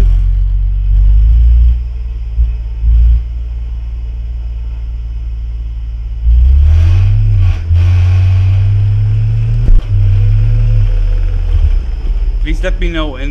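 A DTM race car engine in a racing video game rumbles low, then revs and shifts through gears with rising and falling tones, loud and close, as a voice talks over it.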